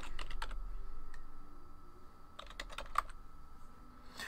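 Keys clack on a computer keyboard as a number is entered, two short close bursts of quick taps separated by a pause, with no talk.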